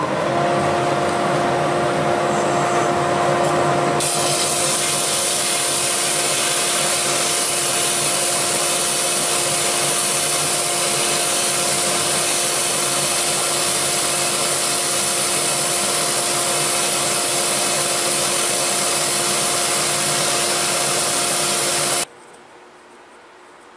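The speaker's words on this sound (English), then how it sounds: "I'm going to turn on my dust collector. It's going to get noisy" A dust collector in a woodworking shop roars steadily at high volume, a dense whooshing drone with a low hum, then cuts off abruptly near the end, leaving quiet room tone.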